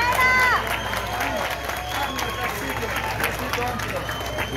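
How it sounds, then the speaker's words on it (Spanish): Crowd clapping for the winning Colombian cycling team at a youth tour stage finish, steady outdoor applause mixed with chatter and voices throughout. "Palmas para el equipo campeón Colombia, tierra de atletas"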